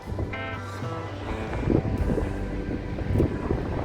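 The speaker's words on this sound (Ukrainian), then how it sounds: "вона не дуже добра для прогулянок, тому що сильний вітер" Strong wind buffets the microphone outdoors in Chornomorsk, near Odesa, in a steady, rumbling roar that swells and gusts, with faint tonal sounds in the background.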